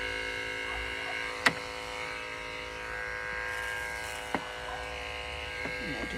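Electric clippers run steadily as they shave up the throat of a powderpuff Chinese Crested dog, a constant close buzz with a few brief clicks.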